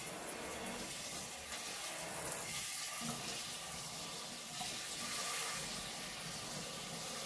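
Cold tap water running into a sink or bowl to cool blanched green beans, a steady rushing splash throughout with slight shifts in flow, close and fairly quiet, no talking.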